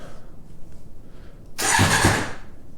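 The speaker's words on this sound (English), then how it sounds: "see if the engine will turn over" A Suzuki Bandit MK1 motorcycle engine stays quiet for about a second and a half, then cranks and catches, rumbling loudly and steadily up close until the end.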